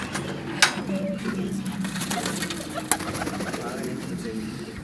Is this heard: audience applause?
no